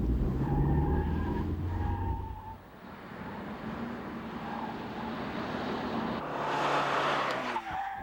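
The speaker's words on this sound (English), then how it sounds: "Brad, let's try her through the cones and see how she handles." A car driven through a cone course during a 1988 handling test, engine note steady with tires squealing and skidding as it turns, loud and close throughout.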